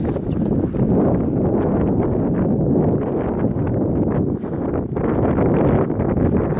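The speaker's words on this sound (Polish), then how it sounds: "Wiatr trochę wieje. Nie wiem, czy słyszycie," Loud, continuous wind buffets the microphone outdoors beside flooded salt meadows, producing a steady low rumbling roar with slight surges throughout.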